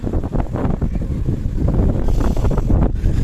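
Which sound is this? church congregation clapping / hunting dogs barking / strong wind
strong wind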